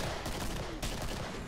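Grenade blast and rapid gunfire in the video game Killing Floor, a dense, loud barrage of shots throughout with a sharper burst partway through, no voices.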